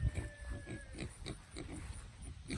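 A pig grunts in a muddy, rain-soaked farm pen, short soft oinks repeating in a quick uneven rhythm, close by and fairly quiet.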